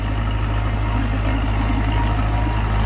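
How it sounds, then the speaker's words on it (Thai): Engine of a Thai-built pesticide spraying vehicle for sugarcane rows idles steadily with a deep, even low rumble and a constant mechanical hum, close and unbroken throughout. "อันนี้คือ รถฉีดยาในร่องอ้อยนะครับ"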